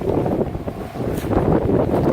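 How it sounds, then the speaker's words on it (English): Strong wind in Normandy buffets a microphone in steady, rumbling gusts, loud and continuous with no voices. "It's still very windy."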